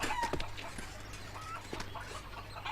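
Chickens cluck in short, faint, scattered bursts under a low hum, with a few sharper sounds mixed in, in a Hindi-dubbed film scene.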